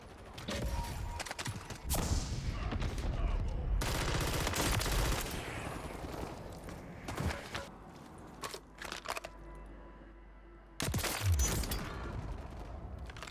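Bursts of gunfire in the video game Warzone 3, dense volleys of rapid shots filling the first half, then a quieter stretch before another loud burst near the end, with no talking.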